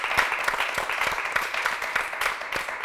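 A TV quiz show studio audience claps for competing school teams, a moderate burst of applause with individual claps standing out in an uneven rhythm.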